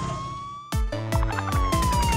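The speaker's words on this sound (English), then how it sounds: "Here comes the ambulance." Ambulance siren in a children's cartoon, loud and near, sweeping up and down in a wailing pattern with a cartoonish tone, sounding alone.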